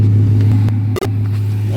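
A first-generation Chrysler 300C Hemi engine idles with the hood open, giving a loud, steady low drone with one brief dropout near the middle and no talk.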